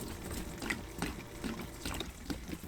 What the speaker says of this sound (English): we're gonna pump out a little bit more, just to work a little bit more antifreeze through the pump